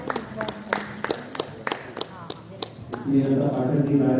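Audience applause at an award ceremony welcoming a guest, scattered sharp claps swelling into fuller clapping toward the end, heard under a speaking voice.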